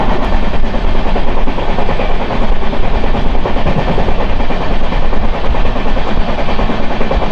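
The 12845 Bhubaneswar to SMVT Bengaluru superfast express rushes past close by, a loud continuous roar of wheels and rattling coaches holding steady throughout.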